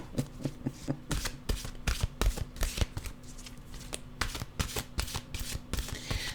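A deck of mantra cards is shuffled by hand up close, a quick run of crisp flutters and soft slaps in an uneven rhythm, fairly quiet, with no talking.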